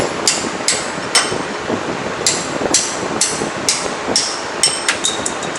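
A hammer strikes a steel punch to drive out a kingpin from the front wheel hub of a 2020 Kenworth T680 truck, about a dozen sharp metallic clanks at an uneven pace against shop background noise.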